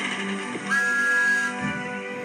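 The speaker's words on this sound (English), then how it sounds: "The engines whistled and wheeshed." A steam engine whistle from a children's animated railway story sounds once as a steady, fairly loud tone of about a second, over a busy background of music and noise.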